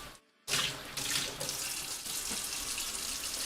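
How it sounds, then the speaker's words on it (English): A kitchen tap runs into a sink while dishes are washed, a steady close hiss of water that starts abruptly after a brief silence and carries on with small splashes and clatter. "Pardon the noise, I gotta do these dishes."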